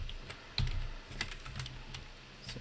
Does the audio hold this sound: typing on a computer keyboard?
yes